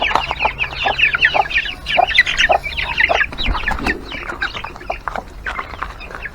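Several chickens cluck and squawk continuously, fairly close, in a busy overlapping chorus with occasional sharper calls.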